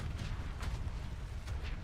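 Explosions from a Diablo IV Barbarian fight, a low rumbling boom with dense crackling bursts layered on top, loud and continuous with brief sharper pops throughout.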